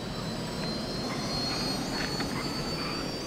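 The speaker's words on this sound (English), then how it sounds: "Ooh, I found three little jets." Steady roaring jet engine of a small jet in Just Cause 2, a continuous loud whine and rush with no breaks, heard up close.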